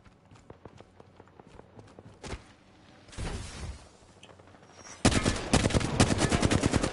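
Gunfire in the Apex Legends video game: a few scattered shots early, then a loud, dense burst of rapid automatic fire near the end, with running footsteps between.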